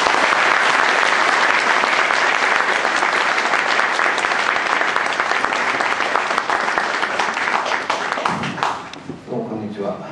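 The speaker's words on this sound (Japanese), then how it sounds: "大きな拍手でお迎えください。" Large audience applauding steadily to welcome a speaker, a dense, even wash of clapping that fades near the end as a voice begins.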